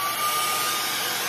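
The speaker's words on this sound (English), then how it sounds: "All right, so my dryer." A hair dryer blows steadily over a wet acrylic Dutch pour painting: a loud, close, even whoosh of air with no break and no talking.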